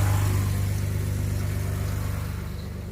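A Toyota Land Cruiser 80 series engine revs hard and steadily while its wheels spin, a loud, close mechanical drone that eases slightly toward the end.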